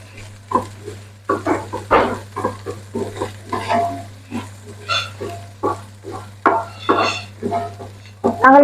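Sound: stirring okra fry in a pan

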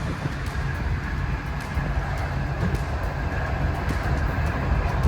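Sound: Tashkent-Bukhara train running at speed

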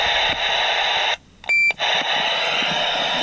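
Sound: CB radio roger beep

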